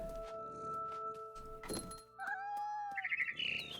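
A frightened barn swallow in What Remains of Edith Finch gives a rising run of sharp chirps and tweets after a dull thunk, the calls clear and close against a quiet game background.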